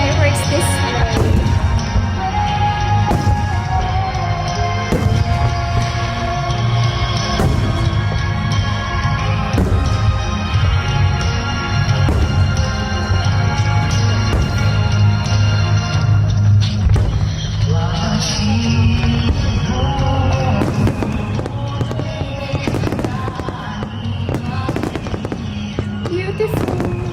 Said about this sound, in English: So nice to see or to watch fireworks this way.